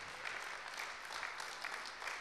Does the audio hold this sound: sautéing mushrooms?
no